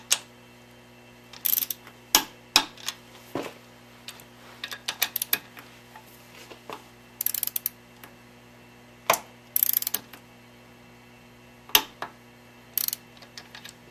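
Ratchet wrench clicking in short bursts while tightening motorcycle cylinder head studs in sequence, crisp close ratcheting strokes separated by pauses, with no talking.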